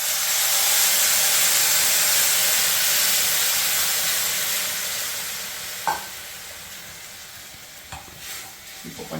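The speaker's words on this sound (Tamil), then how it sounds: "கரைச்சி வச்ச புளி தண்ணியை ஊற்ற போகிறோம்." Tamarind water is poured into a hot pan where dried chillies have been frying for a Tamil vathal kuzhumbu. A loud, steady hiss and sizzle fades gradually, and a few faint clinks of a spoon or pan come near the end.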